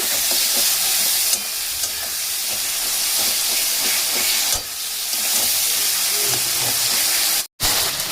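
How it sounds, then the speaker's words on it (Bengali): A spice paste fries in a pan for a hilsa-head cabbage dish, making a loud, continuous hiss and sizzle with soft stirring scrapes, nearby, interrupted by one brief moment of silence near the end. "দেখুন আমি কষিয়ে নেব"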